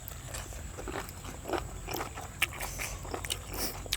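Crispy squid salad crunches under repeated bites, with close, crisp chewing snaps at an irregular rhythm over a low background hum and no talking.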